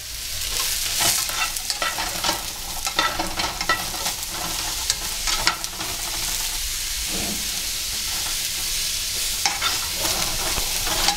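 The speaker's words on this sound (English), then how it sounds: "while the mushrooms are cooking, they're almost done" Mushrooms for chicken marsala fry in a pan with a loud, continuous sizzle and hiss, broken by scraping stirs and spatters, close up and with no talk over it.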